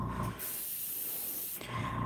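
A Copic airbrush air system compressor hums, then gives a loud, steady hiss of air for over a second before the hum returns, heard close up with no talking.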